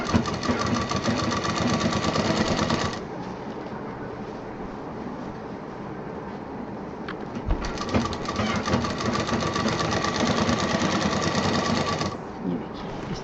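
Sewing machine stitching a folded fabric strip for a large shopping bag, running in two long steady bursts with a pause of quieter handling noise between, close and loud.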